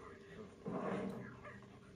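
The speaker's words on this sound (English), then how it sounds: "Pulter Pup keeps on jump scaring me" A Polterpup ghost dog in Luigi's Mansion 3 lets out a brief yip around mid-clip, over steady game ambience and a voice talking.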